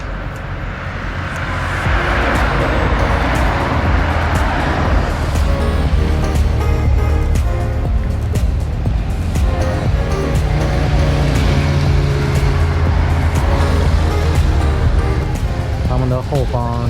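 Tour de France support convoy of police-led logistics, media and organiser vehicles driving past on a roadside, a steady loud rumble of passing cars with broadband road noise throughout, with people talking over it.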